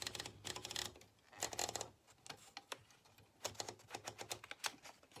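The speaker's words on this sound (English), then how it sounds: "We were so excited to get computers and now it's actually exciting to use a typewriter" Keys of a manual typewriter clack in quick irregular bursts with short pauses between, close and crisp, each strike sharp and percussive, with no voices.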